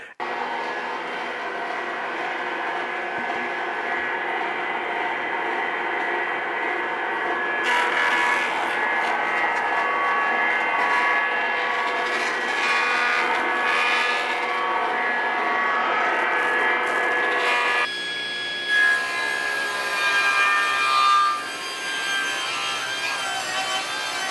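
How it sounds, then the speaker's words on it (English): A jointer planes an 8 by 3 inch beam of reclaimed timber in a workshop, a loud steady cutter whine and rumble that swells into a harsher, heavier cut midway, then settles back, with no talking. "the first thing that I need to do is take it to the jointer"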